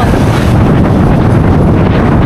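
Strong wind buffets steadily against a moving boat, a continuous loud, rumbling roar with no pauses.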